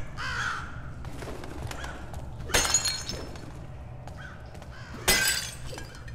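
In the stealth game Thief, glass bottles shatter in two sharp, bright crashes a few seconds apart, with crow caws and quiet ambience between them.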